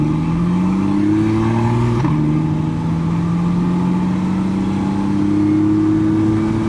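Engine drone from inside a moving car with steady rushing wind noise, the engine pitch rising, dropping briefly as it shifts, then climbing again.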